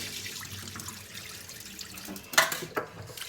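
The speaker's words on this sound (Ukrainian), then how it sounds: "Отак, зливаємо цю першу воду" Rinse water poured off washed rice into a sink, a soft running trickle with a brief louder splash near the end.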